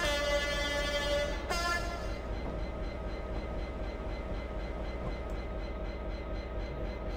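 An AI-controlled train in the Train Simulator game passes with a sustained horn blast that cuts off, followed by steady rolling rail noise.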